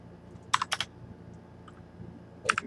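Keys clatter on a computer keyboard while code is typed, coming as two short, close bursts of rapid keystrokes separated by a quiet pause.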